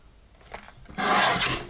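Trimming the edge of a craft piece gives a few faint scrapes followed by a louder, close rasping cut lasting under a second.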